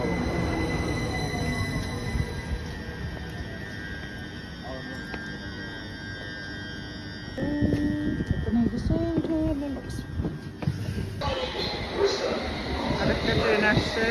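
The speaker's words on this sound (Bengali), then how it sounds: "আরেকটা ট্রেন আসছে" A train pulls into a London station, its rumble swelling and brakes squealing as it nears in the second half, while people chatter nearby on the platform.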